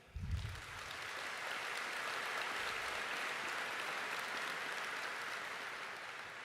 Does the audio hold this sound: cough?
no